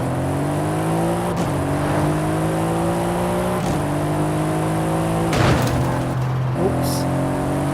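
A fast car in Forza Horizon 5 revs hard through several gear changes, its engine pitch climbing steadily, dropping at each shift and climbing again, loud and close throughout with a brief whoosh midway.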